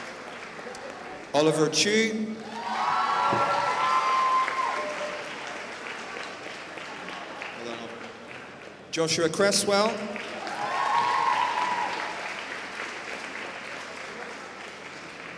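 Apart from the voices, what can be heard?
applause for students at awards ceremony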